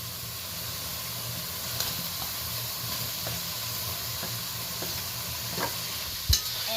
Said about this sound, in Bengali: হালকা হাতে এক দুবার নেড়ে নিলাম